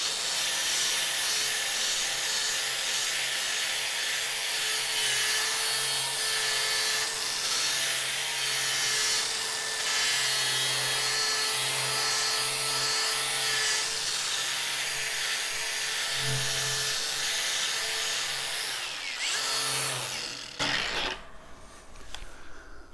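A 3M Scotch-Brite Clean & Strip Pro disc working the edge of a clamped workpiece gives a steady, loud abrasive whir with a rough grinding texture for about twenty seconds, then winds down and falls away near the end.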